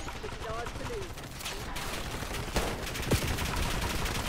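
Rapid gunfire from the online shooter Call of Duty: Black Ops 6, a dense stream of overlapping shots with a couple of sharper close cracks, mixed with game noise and a voice talking over it.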